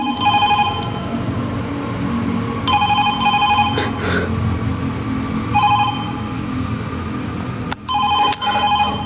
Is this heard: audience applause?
no